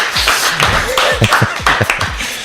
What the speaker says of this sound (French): nous applaudissons l'ami Jérôme qui était avec nous ce soir dans l'émission